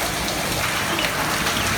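Heavy rain pours down in a steady, dense hiss that fills every moment evenly, with no voices and no thunder heard.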